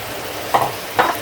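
Eggs with onion and tomato in a frying pan sizzle as they are stirred, a steady hiss broken by two brief scraping bursts from the utensil.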